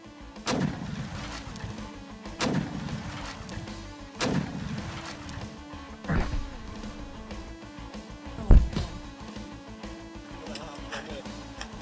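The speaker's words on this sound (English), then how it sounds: "using controlled explosives to destroy nests and kill rats" Controlled explosive charges go off in rat burrows on a farm, giving a series of about five deep, booming blasts spaced a couple of seconds apart, heard under a narrating voice.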